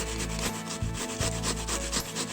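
A cactus pad is rubbed hard across a hand grater into a soupy mush, quick rhythmic rasping strokes at close range, about four or five per second, with no talk.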